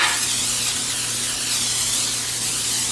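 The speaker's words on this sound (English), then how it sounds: "we are going to use some butter spray." Butter spray from a can hisses onto a baking sheet in one continuous close, loud burst lasting a few seconds, unaccompanied by speech.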